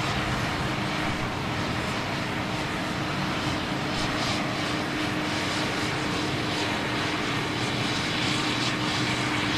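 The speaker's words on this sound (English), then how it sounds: "That was a Globemaster over the top of us." A Boeing C-17 Globemaster passes low overhead, a loud, dense engine roar with a steady droning tone that fills the whole stretch without letting up.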